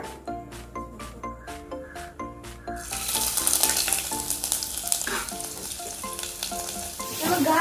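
Small pieces of ginger hit hot oil left from frying prawns and burst into a loud, dense sizzle that holds steady after a quieter start carrying background music.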